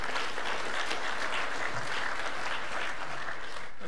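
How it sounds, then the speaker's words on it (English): Steady applause from a church congregation welcoming a guest, dense even clapping that fills the room at moderate level without a break and with no voices standing out. "Let's give our guest a big round of applause"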